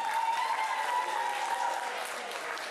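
An audience applauds at the awards ceremony of an anime music video contest at a summer convention, a thin but steady patter of clapping with a voice over a sound system.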